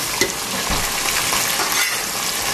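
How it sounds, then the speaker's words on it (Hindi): Chopped onions fry with browned garlic in a hot pan, giving a steady, loud sizzle that fills the whole stretch with no talking. "अब इसे हमें गोल्डन ब्राउन होने तक फ्राई करना है।"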